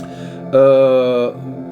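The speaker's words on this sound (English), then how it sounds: "So this now what you hear is the pure sound of the Mood and OP1" Played clean and unfiltered through a Chase Bliss Mood MK2 pedal, an OP-1 synth gives a quiet harmonic drone; a brighter, louder sustained tone swells in for under a second, then drops back to the softer hum.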